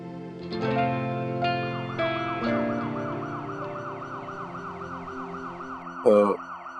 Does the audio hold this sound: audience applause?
no